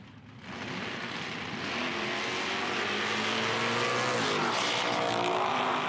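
Drag cars launching and running down the strip at an IHRA Outlaw Nitro event in Hebron, Ohio, including a square-body S10; a loud, building engine roar carries throughout with no audible talk.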